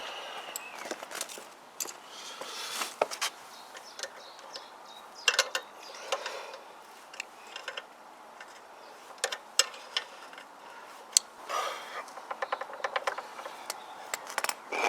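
A spanner works bolts on a Zontes Tiger 125 motorcycle, producing close, irregular metallic clicks and ratcheting ticks in scattered bursts over a quiet background, with no talk.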